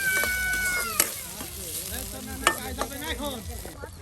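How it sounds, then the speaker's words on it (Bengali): Onion and garlic fry in oil for a mashed side dish, a steady sizzle with stirring scrapes, while a cat meows repeatedly nearby over the cooking noise. "আবারও পেঁয়াজ রসুন ভেজে নেওয়া হচ্ছে।"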